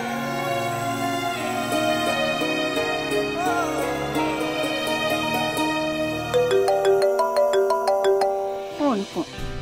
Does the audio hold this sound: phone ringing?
yes